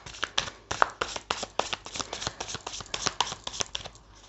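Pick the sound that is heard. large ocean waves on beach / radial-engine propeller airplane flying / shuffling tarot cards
shuffling tarot cards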